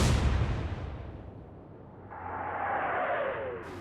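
Naval gunfire in Atlantic Fleet, a loud, booming salvo at the start that decays into a low rumble, followed by a rising whoosh of shells in flight.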